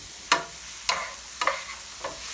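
Food sizzles in a pan while it is stirred, with four distinct scraping bursts over a soft steady crackle.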